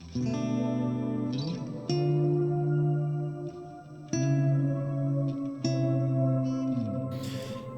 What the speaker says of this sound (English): you can hear this layer of synthesized sounds coming on top of the guitar